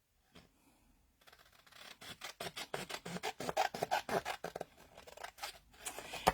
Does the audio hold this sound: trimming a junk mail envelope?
yes